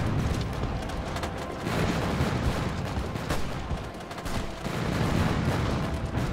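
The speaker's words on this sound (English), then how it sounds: "I've started my artillery barrage in Vienna." An artillery barrage pounds Vienna in the World War I strategy game Hearts of Iron 4, a dense, continuous roll of gunfire and explosions with no pauses.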